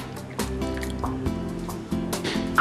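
Water is poured into a simmering buckwheat flour (kuttu) kadhi, a close liquid gurgling and dripping with a filling sound and a low steady hum beneath it.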